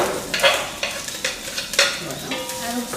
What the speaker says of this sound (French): Et maintenant, tu peux mettre tes oignons.